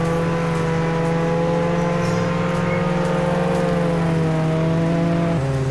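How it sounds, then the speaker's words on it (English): A minivan engine in the Roblox game Jailbreak drones at a high, steady whine with layered tonal hum, holding loud and constant before a brief pitch shift near the end. "Bro, this thing really sounds like a Bugatti Chiron."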